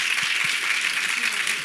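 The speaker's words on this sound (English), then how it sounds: "Round of applause." Audience applause at a women's empowerment and leadership forum: a steady wash of many hands clapping, evenly sustained and moderately distant throughout, with no distinct voices over it.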